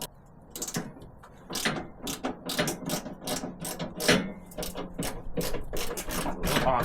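A ratchet socket wrench works a bolt loose on a Ford F150 Tremor suspension during an active suspension install, rapid clicking bursts repeating close up and fairly loud.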